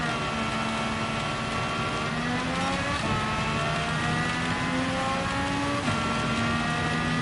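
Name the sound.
car engine running with a suspected fault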